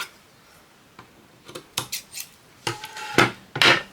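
Scissors snip through fabric for a shabby-chic craft project: a handful of short, crisp cuts close by, spaced unevenly and growing louder toward the end, with no talking.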